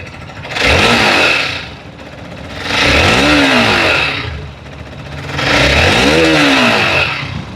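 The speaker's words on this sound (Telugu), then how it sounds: "లైక్ ఇప్పుడు రెవ్విస్తాను, ఇప్పుడు సౌండ్ అయితే వినండి." Close, loud revving from a Hero Xpulse 200 4V Pro motorcycle exhaust: three separate throttle blips that each swell and fall back to idle, evenly spaced and with no voices.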